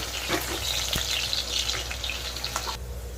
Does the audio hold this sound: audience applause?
no